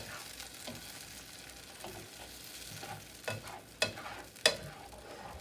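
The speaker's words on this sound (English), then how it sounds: "Stir the onions and garlic into the tomatoes." Onions and garlic being stirred into tomatoes in a pan make a quiet, low sizzle, broken by soft scraping stirs and a few sharper clicks of a utensil against the pan.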